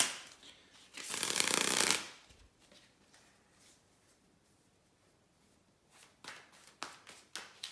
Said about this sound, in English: here to shuffle the tarot cards